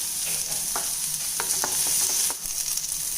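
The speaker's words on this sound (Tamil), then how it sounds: "இப்போ இதை நல்லா வதக்கிக்கலாம்" Onions and dried chillies sauté in a pan for a herbal lunch dish, giving a steady close sizzle with a few scattered stirring scrapes and clicks and no talk.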